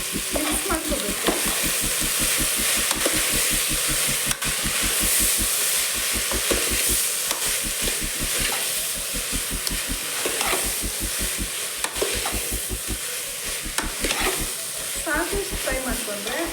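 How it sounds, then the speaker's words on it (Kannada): Spices with turmeric powder fry in oil in a pan, a loud, close, continuous sizzle with rhythmic stirring scrapes throughout. "ಸಾಕು ಇಷ್ಟು ಫ್ರೈ ಮಾಡಿಕೊಂಡ್ರೆ"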